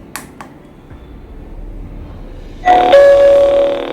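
After a couple of faint clicks, a smart doorbell's normal-temperature tone sounds: a bright electronic short beep followed by a longer sustained chime, fairly close.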